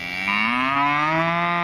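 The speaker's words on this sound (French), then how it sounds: "Aujourd'hui, sur la ferme, on va travailler avec les vaches." A single cow moos on a farm where cattle are being herded and sorted, one long, steady, loud call with a rising pitch that lasts well over a second, heard alone with no talking.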